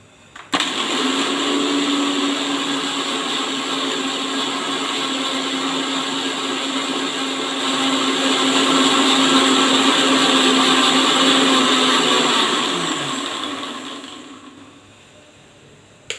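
A kitchen mixer grinder pulverizes almonds into powder, a loud steady whirring motor that starts abruptly, holds for about thirteen seconds with a slight rise in intensity, then winds down.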